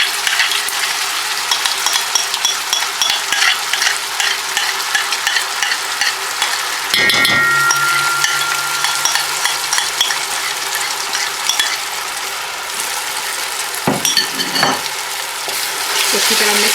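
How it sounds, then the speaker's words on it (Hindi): Cumin and a yogurt-and-flour mixture for chicken 65 sizzle loudly in a hot pan, a dense continuous crackle up close, with a few brief scraping stirs and clatters and no talking. "अब आप देख सकते हैं कि इसके अंदर में सिजलिंग स्टार्ट होगी भी है, ज़ीरा भी भून चुका है।"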